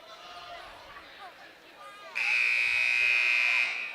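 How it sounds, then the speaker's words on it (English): A basketball halftime buzzer at a boys' high school regional game, a loud steady electronic tone lasting about a second and a half, preceded by gym crowd noise and squeaky activity. "Halftime buzzer sounds"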